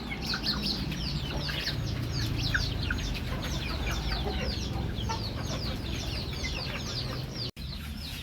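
A large flock of young domestic chickens, about three to four months old, clucks and chirps continuously close by, a busy overlapping chatter, with a brief spoken remark.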